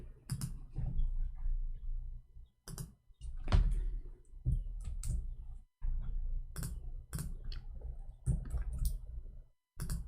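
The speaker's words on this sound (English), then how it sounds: "I'm typing in Arabic, hold on." Typing on a computer keyboard: bursts of quick clicking keystrokes in irregular runs, separated by brief pauses, with a louder knock partway through, fairly close and with no talking.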